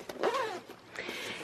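A zipper is pulled along the pocket of a Bernina accessory case, a short near rasp lasting about a second with a brief second pull right after.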